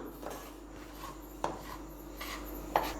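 Semolina roasting in a pan over a low flame gives soft, gritty scraping as a spoon stirs it, with a few sharper clicks of the utensil against the pan and no talking.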